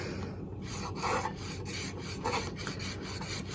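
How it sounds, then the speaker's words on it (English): Material is burnished onto a surface by hand, giving a steady close-up rasping rub in repeated strokes with a brief louder swipe, and no voices. "you can go ahead and open it up and burnish it on, just like so"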